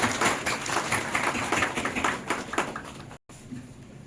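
Audience applause breaks out at a workshop, a dense patter of many hands clapping close by that fades slightly, then cuts off abruptly near the end.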